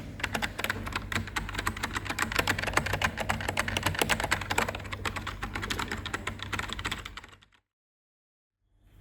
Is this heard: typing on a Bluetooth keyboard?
yes